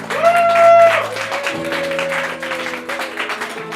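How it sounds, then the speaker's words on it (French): Audience at a poetry and music evening applauding a sound artist, steady clapping from the crowd layered under sustained musical tones that shift partway through. "On l'applaudit."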